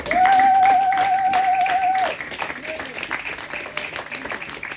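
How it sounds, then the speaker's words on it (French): A church congregation at a Sunday service claps in quick rhythmic bursts, with a voice holding a long sung note over the first two seconds and chatter and cheering continuing as the clapping goes on. "On acclame l'Éternel"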